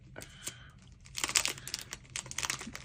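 A resealable plastic bag being pulled open, with crinkling and a crisp, crackling rip of the seal. Faint, close-up, and in short irregular bursts.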